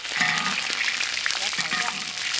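Scallion, ginger and garlic dropped into a hot wok for braised sauce-style duck give a steady, close crackling sizzle that runs the whole time, with faint voices underneath.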